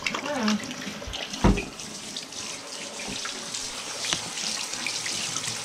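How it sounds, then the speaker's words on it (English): Running tap water splashes into a sink as hands are rinsed at home while making slime, a steady close stream with splashy bursts from hand movement, and a voice talks briefly over it. "Wash your hands."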